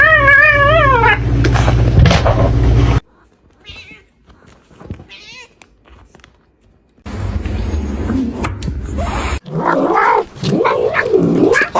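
Kittens meowing up close, a loud wavering meow at the start, then quieter stretches broken by fresh bursts of mewing and squealing cries later on.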